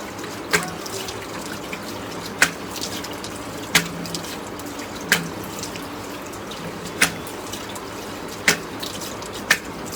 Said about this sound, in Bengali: আচ্ছা দেখেন আমি মুখ ধুয়ে ফেলছি।